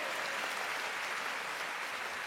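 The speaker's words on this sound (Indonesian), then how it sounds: "Kita berikan tepuk tangan buat Tuhan" Church congregation gives sustained applause, a steady wash of many hands clapping from across a large hall, moderately distant and even throughout.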